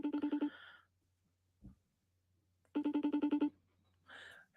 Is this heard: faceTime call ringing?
yes